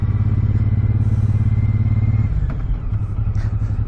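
A Suzuki Boulevard motorcycle with a roughly 1.7 litre, 109 cubic inch engine rides along a coastal road, its loud, steady low rumble shifting partway through as the revs change.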